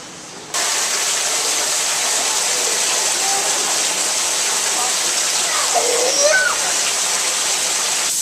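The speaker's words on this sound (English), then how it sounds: "It's raining." Steady rain starts suddenly and keeps up as a loud, continuous hiss, with faint voices and a small child's sounds now and then underneath.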